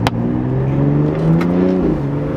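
A BMW X3M Competition revs hard under launch acceleration, a loud, steady engine roar climbing in pitch close by for a couple of seconds, with a short click at the start.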